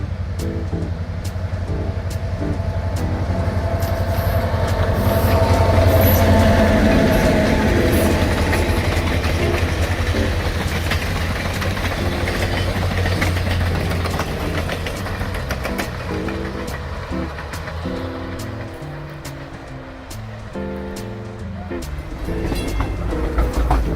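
Norfolk & Western No. 300 steam locomotive train running on the Little River Railroad between Coldwater and Hillsdale, Michigan, a steady close rumble with rolling wagon noise and rhythmic clatter throughout, holding loud and even from start to finish.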